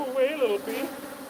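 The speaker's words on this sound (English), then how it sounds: "Go away, little bee." Bee buzzing close by near a beehive, a brief wavering whine that swells and dips in pitch for about half a second before fading, over quiet outdoor background.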